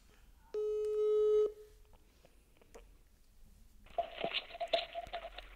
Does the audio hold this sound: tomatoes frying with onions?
no